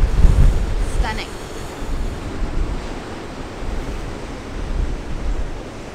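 Ocean surf rolls onto coarse-sand Umdloti beach in KwaZulu-Natal, a loud, continuous wash of waves mixed with wind buffeting the microphone.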